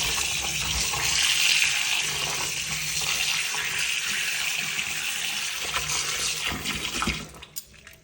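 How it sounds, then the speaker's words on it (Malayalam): Hot water runs from a kitchen tap into soybeans, a steady loud gushing stream that sounds alone, then tapers and splashes unevenly as the flow stops near the end. "ഇത് നല്ല വെള്ളം വരുന്ന ടാപ്പാണ് കേട്ടോ"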